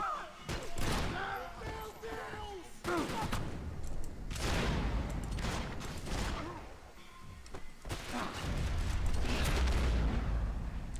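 Shotgun fire in the Max Payne 3 video game, with repeated heavy blasts and mechanical pump-action clatter amid dense combat noise, while a voice talks over part of it.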